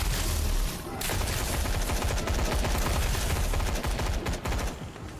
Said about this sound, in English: I'm just gonna stop shooting because I'm completely out of ammo